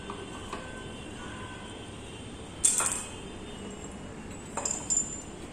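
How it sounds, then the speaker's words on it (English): A glass cuvette from a colorimetry experiment on Fe III solution is lifted out and rinsed, with two brief clinks of glass against glass over faint steady background hiss, the first clearer than the second, and no talking. "I'll take it out. I'll rinse it."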